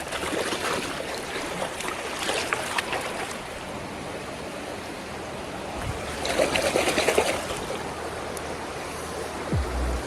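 A hill stream runs down from the slopes toward a river, making a steady rushing and gurgling wash of water, fairly close and moderately loud, with no voices.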